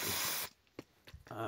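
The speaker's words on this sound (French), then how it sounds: "tu passes ton coup de nettoyant frein" Brake cleaner sprayed from an aerosol can, one loud hissing burst, then a pause with small clicks and a second short spray starting at the end.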